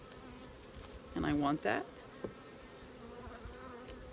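Honey bees in a queenless hive drawing out comb on empty frames produce a low, steady buzz on a warm day, faint and continuous, under a short burst of nearby speech.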